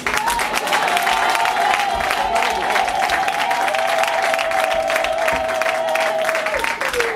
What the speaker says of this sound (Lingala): Est-ce que je peux entendre les acclamations de ces côtés?